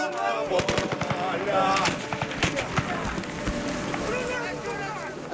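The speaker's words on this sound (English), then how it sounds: "There's a warning shot." A warning gunshot rings out in Crimea during a tense takeover by pro-Russian forces: sharp cracks near the start, followed by agitated voices talking over the commotion.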